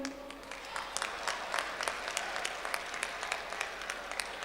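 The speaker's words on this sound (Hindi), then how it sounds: "इतनी कमजोर तालियां" At a mushaira and kavi sammelan poetry recital, the audience offers faint, thin applause, scattered individual claps sounding distinctly through a sparse, quiet patter that never builds into a full ovation.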